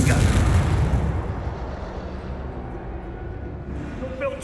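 In Hogwarts Legacy, the Confringo spell explodes with a loud, booming blast at the start, then fades into a long, rolling rumble that tapers off over several seconds.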